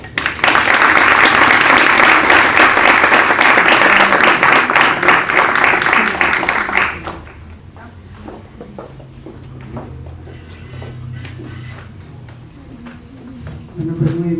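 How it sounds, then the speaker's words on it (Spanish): An audience applauds a guest speaker at a university keynote lecture, with loud dense clapping for about seven seconds that then drops off to scattered murmurs and room noise. "Recibamos con un fuerte aplauso a la maestra Silvia Schmelkes."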